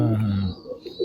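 Rampuri pigeons, a dark Indian breed, give a loud, close, sustained throaty coo that breaks off halfway, followed by quieter murmuring sounds.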